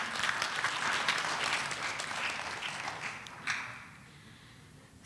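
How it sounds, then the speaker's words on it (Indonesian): Steady audience applause in a hall during a graduation ceremony for STI Galileo, a dense even patter of many hands clapping that slowly fades out near the end. "Berikan tepuk tangan sekali lagi."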